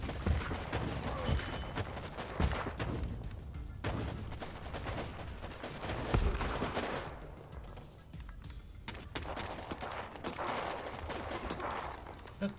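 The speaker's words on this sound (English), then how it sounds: "Yep, artillery." Artillery fire in a war video game, a dense continuous barrage of booms and crackling gunfire, loud and sustained throughout with rising and falling bursts, no talk audible over it.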